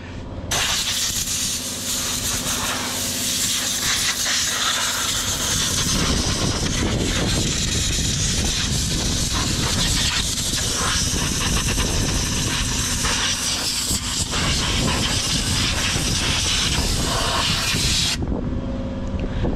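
Compressed air blows dirt out of a Suzuki Vitara engine bay during washing, a loud continuous hissing roar that fills nearly the whole stretch before cutting off abruptly.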